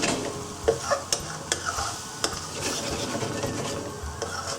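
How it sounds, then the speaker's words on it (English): Onion-based curry gravy for a restaurant-style mirchi chicken bhuna caramelising in a pan, a soft continuous sizzle broken by sharp scraping stirs and a few clacks, fairly quiet and without talk. "the onion based gravy is cooking and caramelising on the surface of the pan"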